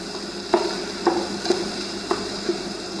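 Turmeric, amchur powder and coriander powder being stirred into a sizzling pan, with a steady frying hiss under several evenly spaced scrapes and taps of the spoon against the pan, close and fairly loud.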